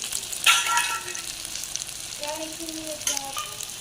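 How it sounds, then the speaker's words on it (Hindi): Potato snacks deep-frying in hot oil, a steady close sizzle with a louder burst as pieces drop in, then clinks of a utensil over the bubbling. "इधर हमारा ऑयल गर्म हो चुका है। तो अब हम एक एक करके इसमें डाल देंगे।"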